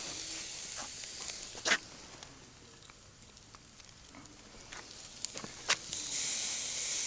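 Steaks sear on a hot, cheap Walmart grill outdoors in rain and darkness, giving a faint, steady sizzle broken by a few sharp pops and crackles.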